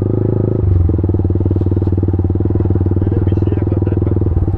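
A motorcycle on a rough rural road, its engine throbbing loud and close in a steady rapid rhythm with faint rattling over it, no talking.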